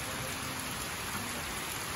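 Rain falling steadily at a farm during harvest, an even soft hiss of drops with no pauses, fairly quiet and close, heard alone for two seconds.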